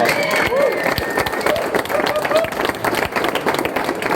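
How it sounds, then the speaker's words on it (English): A crowd of friends and family at a drumming event in Leeds clapping and cheering, with lively scattered whoops over steady applause. "So give yourselves a round of applause"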